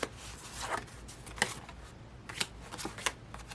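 Paper cards and envelopes of thrifted stationery are handled and shuffled close by, giving soft papery rustles with several sharper flicks and snaps spaced irregularly over a quiet room.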